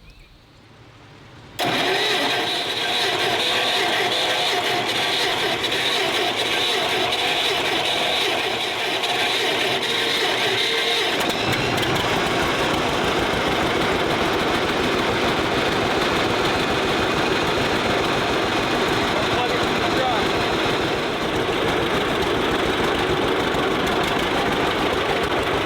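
A John Deere Model A tractor with its spark plugs loosened halfway cranks and catches, then settles into a loud, steady running rumble close by that carries on without a break.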